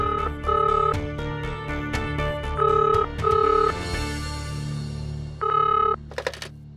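A telephone rings in short repeated electronic bursts with pauses between them, loud and close, mixed with a few clicks and background tones.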